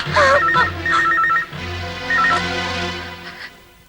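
A telephone rings in a Tamil film scene, a repeated electronic ringtone in bursts with pauses, fairly loud and near, over a low background hum.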